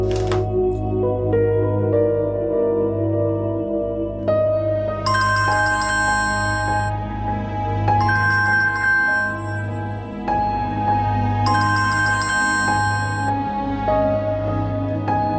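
A phone ringtone plays loud and near for about fifteen seconds, a repeating electronic melody of bright tonal notes over a steady low hum, with no talking over it.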